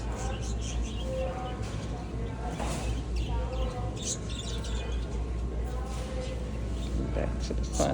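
Pet birds, parakeets among them, chirp and tweet in short scattered calls inside a PetSmart store, fairly faint beneath steady store hum and ambient noise.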